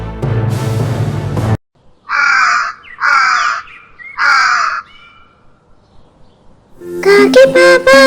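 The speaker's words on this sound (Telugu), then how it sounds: "కాకి" A crow caws three times in separate harsh bursts, clear and close, between stretches of bright children's rhyme music at the start and end.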